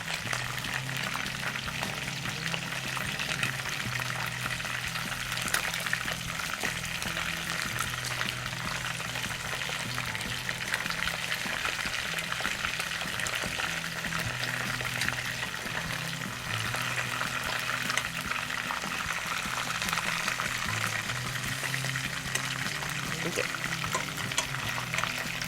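Balochi tikka sizzles steadily in a frying pan, a continuous loud hiss and crackle of hot oil that runs without pause for the whole stretch, with faint voice underneath.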